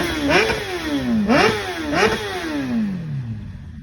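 A Honda CBR1000RR superbike exhaust revved three times in quick succession, each blip rising sharply then falling back, loud and close, with the engine settling toward idle at the end.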